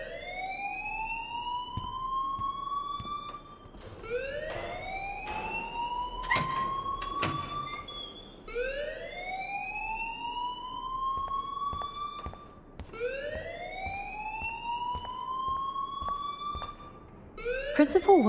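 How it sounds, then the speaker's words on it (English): The fire alarm in the Life is Strange video game wails in repeated rising sweeps, about every four seconds, loud and continuous. Game dialogue and background noise sit underneath it. "please turn off that alarm since that's your job"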